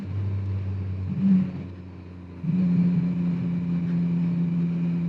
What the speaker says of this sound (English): Let's slow down a little bit here, or we're going to engine brake here.